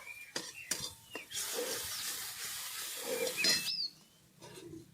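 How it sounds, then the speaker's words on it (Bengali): Masala spice paste with Kashmiri red chilli powder frying in hot oil for Bengali dhokar dalna, a steady hiss and sizzle with stirring knocks, broken by short pauses and faint background sounds. "এরপর এই মশলাটা খুব ভালো করে ভেজে নেবো"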